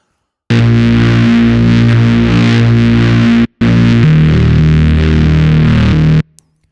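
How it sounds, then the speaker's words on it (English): A Virus TI synthesizer through heavy stomp box distortion playing sustained, buzzing chords, loud and saturated, with a short gap before a second phrase and an abrupt stop. "It's going through some pretty heavy distortion here from the stomp box"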